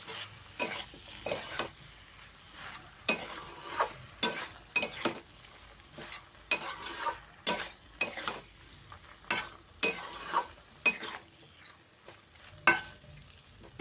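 A spoon stirs potato and brinjal curry scattered with coriander leaves in a pan, giving repeated close scraping strokes in a loose rhythm over a soft sizzle.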